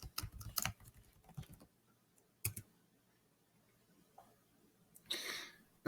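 Quick bursts of keystrokes on a computer keyboard typing into a web browser, a cluster of clicks at the start, a lone tap later, then a final short flurry, quiet and close.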